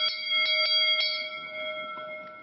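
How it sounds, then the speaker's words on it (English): A tofu seller's handheld bell rings in a Kyoto street with several quick clear strikes early on, then a sustained ringing tone that slowly fades, fairly loud and heard without any talk. "The bell has been used since his grandfather's generation."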